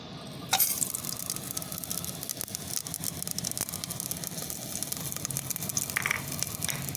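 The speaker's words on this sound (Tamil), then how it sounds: "இப்போ தாளிக்கிறதுக்கு கறி மசாலா பட்டா எல்லாம் போட்டுக்கலாம்" Steady sizzling and crackling of whole spices such as cinnamon frying in hot oil, with a sharp clatter near the start and continuous bubbling hiss throughout, no talking.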